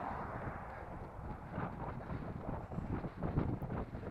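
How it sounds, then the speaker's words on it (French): Strong headwind buffets the microphone during the Montpellier marathon 2017, a steady low roaring rumble of wind noise with gusty swells and no voices. "Un gros vent de face."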